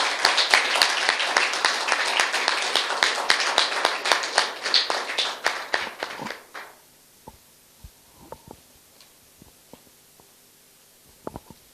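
An audience claps at an official Cross of Merit nomination ceremony, a dense, loud round of applause lasting about six seconds before fading into a few scattered claps and light knocks.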